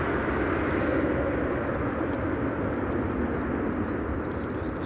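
A fixed-wing airliner touches down at windy Amsterdam Schiphol Airport, a broad, continuous roar of engines and rushing air heard from the field edge, steady and fairly loud throughout.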